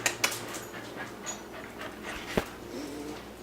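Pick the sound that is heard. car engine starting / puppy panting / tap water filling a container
puppy panting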